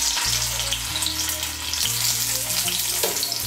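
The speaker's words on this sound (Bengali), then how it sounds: "তেলটা গরম হলে প্রথমে এর মধ্যে আলুগুলো ভেজে নেব।" Potato pieces fry in hot mustard oil with a steady, dense sizzle and crackle that fills the whole stretch, close and fairly loud with no talking, with low hum from the kitchen beneath.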